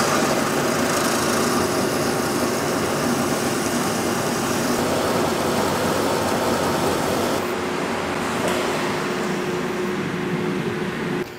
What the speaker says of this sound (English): let's take it out, put it in the bandsaw, and cut it off to what we actually need